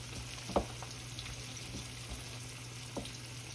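Pork chop frying in hot grease in a pan, a soft steady sizzle with faint pops and crackles, low and continuous with no talk.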